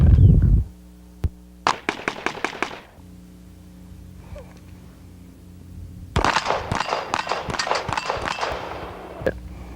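A gunslinger's sharp, close gunshots ring out in a quick string of about five cracks, then after a pause a longer, denser flurry of reports, with no one talking.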